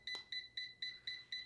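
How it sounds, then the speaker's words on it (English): An automatic hair curler's tangle alarm beeps in six evenly spaced double-tone pulses, high and piercing, close by with no talking. "it's the tangle alarm"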